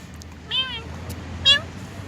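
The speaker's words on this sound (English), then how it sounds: "I came back to the park to look for Hunter, the other cat" A cat in a park in Lima, Peru gives two short, clear meows about a second apart, close by over a low background hum.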